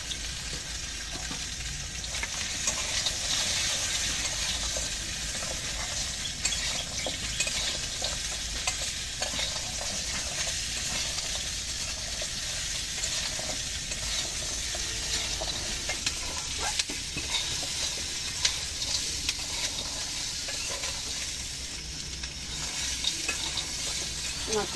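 Crab curry with fish, potato and sweet pumpkin sautéed and stirred in a pan, a steady close sizzle with scraping spoon strokes continuing throughout without talk.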